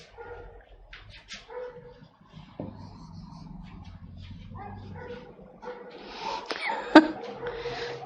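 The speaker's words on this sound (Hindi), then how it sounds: "पूरे मोहल्ले का कुत्ता भौंक रहा है बेटा।" Dogs barking around a residential neighbourhood, scattered yaps and whines at moderate distance with a louder burst near the end, amid household noise and faint background activity.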